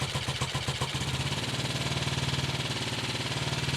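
A Triumph Tiger Cub motorcycle with a Zenith carburettor and 6-volt system starting after two months standing, its single-cylinder engine catching and settling into a steady, slightly uneven idle close by.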